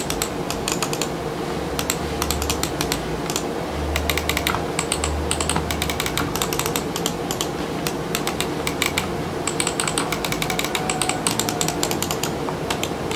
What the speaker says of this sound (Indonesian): Untuk suara dari mouse ini adalah sebagai berikut.